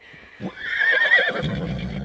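A single mare's whinny, loud and close, rising and wavering for about a second before trailing off into low rumbling background noise.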